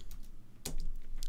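Keys clatter on a computer keyboard while an email is typed in Gmail, a quick run of close, light taps with one sharper keystroke in the middle.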